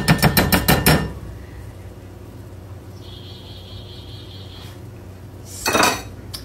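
A utensil clatters rapidly against a dish while breakfast casserole ingredients are mixed, a quick burst of clinks at the start and another brief scrape later, with a faint tone in between.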